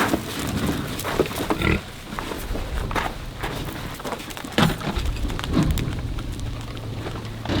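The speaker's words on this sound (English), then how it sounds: "I better feed these boars or they're gonna keep yelling at me." Farm boars squealing and grunting before feeding on pasture near a barn, intermittent calls over rustling, footsteps and steady outdoor noise.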